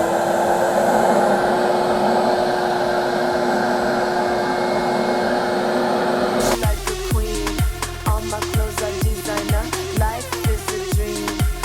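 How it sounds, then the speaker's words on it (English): A loud carpet extractor vacuum motor drones steadily, then a rapid rhythmic whooshing and clicking of water spraying and suction takes over partway through. "Turn the vacuum on, and then this right here is the spray."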